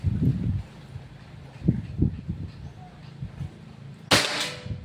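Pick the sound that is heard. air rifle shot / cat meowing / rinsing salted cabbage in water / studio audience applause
air rifle shot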